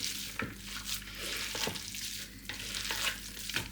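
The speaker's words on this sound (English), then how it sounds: "Give it a good mix, because I can feel some of the breadcrumbs are kind of stuck together" Hands mixing a meatloaf mixture of meat, egg and breadcrumbs, giving soft wet squelching and squishing sounds in irregular pulses, close and alone.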